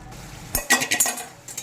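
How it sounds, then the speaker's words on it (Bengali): Bottle gourd and fried shrimp with a little sugar being stirred in a cooking pot, giving a short burst of several metal clinks and scrapes of a utensil against the pot, close and fairly clear with no talking. "এভাবে নাড়িয়ে চাড়িয়ে আরও দু তিন মিনিট মতন রান্না করে নেব"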